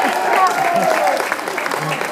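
At a comedy roast for Cork Proctor, an audience claps in a broad, steady patter while a voice talks over it, the clapping slightly louder at first and then settling.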